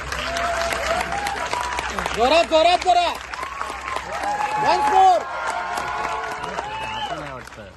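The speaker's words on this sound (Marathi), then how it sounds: "लेखक आणि दिग्दर्शक हेमंत डोमे यांच्यासाठी टाळ्या होऊन जाऊ द्या" An audience at a Marathi film event applauds writer-director Hemant Dome with sustained clapping and scattered cheers, while an announcer's amplified voice talks over the crowd.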